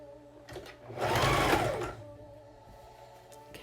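Sewing machine stitching binding onto a face mask: one short, steady whirring run of about a second that swells and fades, fairly quiet and close, with no talking.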